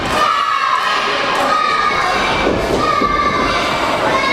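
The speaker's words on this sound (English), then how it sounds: "Crowd is behind Joey O'Reilly tonight." The crowd at a UWC wrestling event roars steadily and loudly throughout, a dense wash of cheering and shouting with occasional thuds beneath it.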